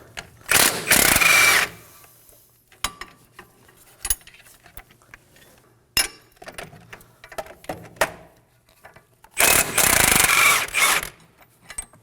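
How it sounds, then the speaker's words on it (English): A 19mm socket wrench works on strut bolts of a 2016-2020 Kia Sorento, with two bursts of rapid ratcheting clicks at the start and end and scattered metallic clinks and taps between, close and without speech. "using a 19mm socket, go ahead and take those out"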